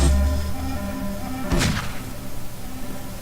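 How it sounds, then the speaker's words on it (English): A sharp, bursting gunshot-like crack from a video game car cuts through a steady engine drone, a single loud report over continuous mechanical hum. "It's making gunshot noises, which I have no idea why."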